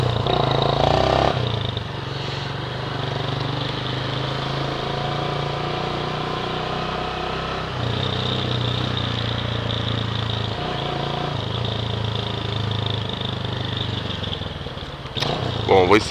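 Small motorcycle engine running close and loud with a steady drone and shifts in pitch as it accelerates, while someone talks over it.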